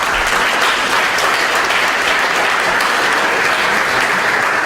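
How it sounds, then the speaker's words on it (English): A conference audience gives sustained applause after a keynote talk, a loud continuous patter of many hands clapping with no talking. "a big round of applause again for all of our keynote"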